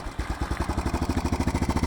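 A Yamaha Big Bear 350 ATV engine runs cold on full choke, a close, steady rapid putter with a rhythmic thumping pulse and clattery edge, no voices over it.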